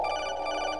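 An incoming codec call rings in Metal Gear Solid 2, a steady, continuous electronic ringing tone with bright harmonics, heard alone and at even loudness throughout.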